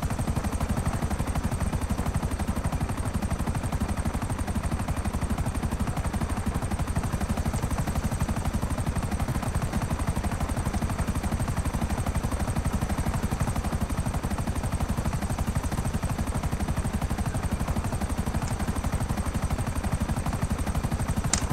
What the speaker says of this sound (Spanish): Tengo que llevar el helicóptero un poco por aquí.